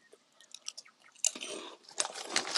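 Close crunching and chewing of a crispy 7-Eleven corn snack, quiet at first with a few soft bites, then louder crackly crunches in quick succession.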